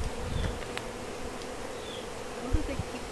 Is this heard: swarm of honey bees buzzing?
yes